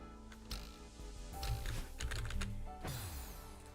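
Fast, uneven clatter of key presses on a computer keyboard, close and fairly loud, with a few heavier thumps and bursts through the middle and again near the end, no voices over it.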